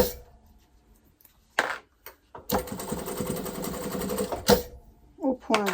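A domestic sewing machine runs a straight stitch along a seam allowance in a steady whir for about two seconds, stops, then starts again briefly, with short pauses and handling clicks around it.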